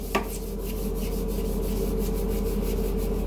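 Steady, rhythmic scrubbing of the inside of a toilet bowl, a close brushing rasp repeating in quick even strokes with no talk.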